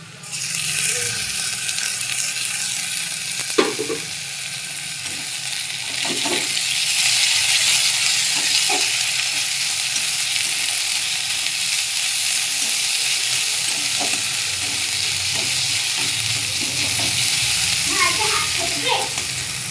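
Ginger-garlic paste and ground green chilli fry with browned onion in a pan, producing a loud, continuous sizzle with occasional clicks and scrapes of stirring throughout.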